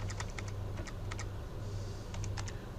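Typing on a computer keyboard: quick, light key clicks in short irregular bursts over a steady low hum, close by, with no voices.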